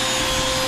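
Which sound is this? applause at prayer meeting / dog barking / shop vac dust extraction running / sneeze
shop vac dust extraction running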